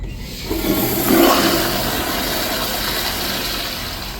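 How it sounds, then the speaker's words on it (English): An American Standard Madera 1.6 toilet with a 2 1/8-inch trapway flushes with a loud, steady rush of water that swells in the first second, then keeps draining evenly, close by with no talking. "Let's have a look at a flush."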